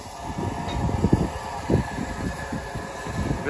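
A heritage train on the North Norfolk Railway rumbles past a station platform with a low, steady rolling clatter and faint wind noise, up close.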